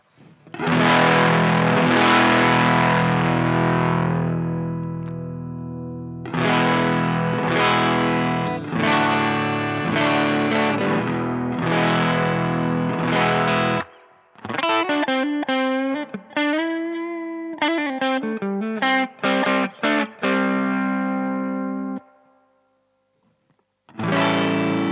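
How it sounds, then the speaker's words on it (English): Electric guitar run through a rare Japanese Guyatone PS-001 distortion pedal gives a mild, crunchy, sputtery overdrive. Strummed chords ring out first, then a run of choppy single notes and bends, loud and close with brief gaps. "So it's like a nice, mild, crunchy overdrive. It has sort of this sputtery or kind of this chunky,"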